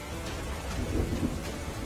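Heavy monsoon rain pours down in Liliya town, Amreli district, Saurashtra, with deep thunder rumbling through a steady roar of rain, loud and continuous with no voices.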